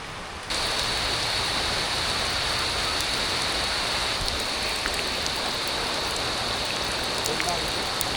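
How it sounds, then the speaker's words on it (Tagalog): Heavy rain pours down steadily near a spring in Sorsogon, a dense, even hiss of falling water that starts abruptly and continues unbroken, with a faint high tone running through it. "Lakas ng ulan, no?"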